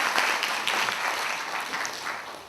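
Delegates at a student representative assembly give a moderate round of applause to pass a motion unanimously, a steady wash of clapping that slowly tapers.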